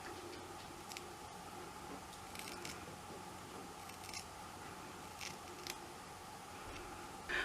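Scissors snipping through a fringe of hair at an angle, a few sparse crisp clicks spaced out over quiet background, close to the ear.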